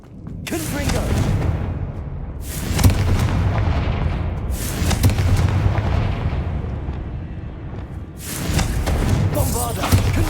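The Confringo fire spell cast in the video game Hogwarts Legacy, a string of heavy booming blasts in separate bursts, each with a rumbling tail, with a voice heard partly underneath.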